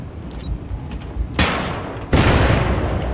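Gunfire in the Syndicate video game aimed at the player, loud bursts of shots cutting in abruptly twice and sustaining as rapid crackling fire, no voices.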